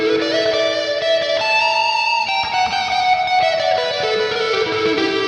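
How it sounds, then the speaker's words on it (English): Sustained notes from an Enya Nova Go Sonic electric guitar ring out through heavy reverb, chords washing into long, smeared tails with a slightly distorted tone. "That's a lot of reverb."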